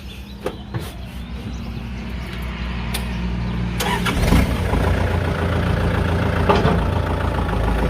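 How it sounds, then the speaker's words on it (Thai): A Kubota L4708 tractor's diesel engine cranks over, catches around the midpoint and settles into a steady, rumbling idle close by. "เดี๋ยวเราลองมาสตาร์ทเครื่องยนต์"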